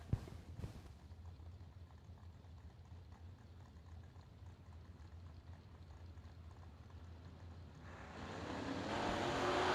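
A 1968 Camaro at a drag strip sits in a low idling rumble after a sharp opening burst, then its engine swells into a loud roaring launch over the last two seconds.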